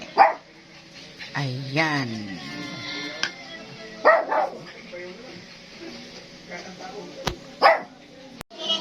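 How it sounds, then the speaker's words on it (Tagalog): A dog begging for food gives a few short yips and whining cries between stretches of nearby conversation. "Ang aso ko, nangihingi."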